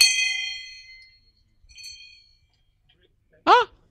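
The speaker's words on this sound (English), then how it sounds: "the way I rang that bell, it did something to me." A preacher rings a hand bell at a church session: bright metallic clangs ring out and decay, a second lighter ring follows, then a voice breaks in briefly.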